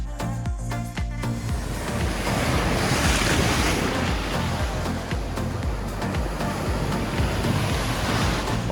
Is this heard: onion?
no